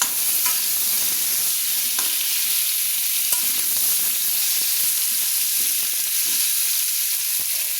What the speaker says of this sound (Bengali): এবার আমি ভালো করে নেড়ে নেব, আলুটাকে আমি লাল লাল করে ভেজে নেব।